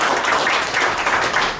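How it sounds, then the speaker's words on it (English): Applause breaks out at a boxing press conference for a Dylan Price vs Drew Correll bout, a short, dense burst of clapping from the audience that stays steady and fairly loud throughout. "let's give a hand"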